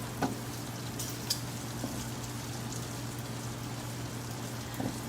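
Pancetta frying in a pan with a steady low sizzle throughout, faint stirring scrapes and a few soft clicks of a utensil, fairly quiet with no talking.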